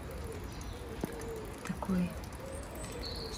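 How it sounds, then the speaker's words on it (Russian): Birds call outdoors around a London garden after heavy rain, with a pigeon's soft low coo among scattered chirps, faint and fairly distant under a woman's brief speech. "птицы поют здорово"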